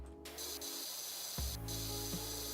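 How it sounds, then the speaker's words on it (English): A pressure washer sprays a fence in the video game PowerWash Simulator, a steady broadband hiss that runs the whole clip over a constant low hum, with a short gap near the start and a shift in tone partway through. "Okay, so I spray the fence."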